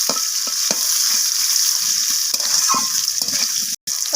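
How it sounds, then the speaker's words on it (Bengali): Potatoes frying in hot oil, a loud bright continuous sizzle close up with occasional stirring clicks and a brief dropout near the end. "তো আলুগুলোকে লালচে করে আমি ভেজে নিচ্ছি"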